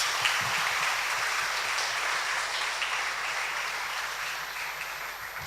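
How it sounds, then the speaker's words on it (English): Audience applause for parents at a Thiagarajar College of Engineering student induction programme: a steady, moderately soft hiss of many hands clapping, sustained evenly and tapering slightly at the close. "I would like to give them a very big round of applause to all those dedicated parents"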